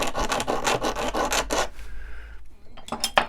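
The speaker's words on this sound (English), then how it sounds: "this is rather hard steel, and it basically it'll just be a case of filing" Hand file rasping back and forth across the face of a small hard steel chisel, a rapid run of rhythmic strokes up close, pausing briefly before a couple more scrapes.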